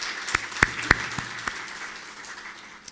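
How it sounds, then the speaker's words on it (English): Scattered applause for His Excellency at a formal opening function: a few sharp, distinct claps stand out early over a softer spread of clapping that thins as it goes on. "Please give a round of applause to His Excellency"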